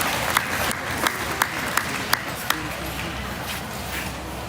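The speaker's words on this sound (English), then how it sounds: "Let's give them a nice round of applause." Scattered audience clapping at a Berkshire gilt show at the Arizona National livestock event, light and thin with a handful of sharper claps standing out over a steady arena hum.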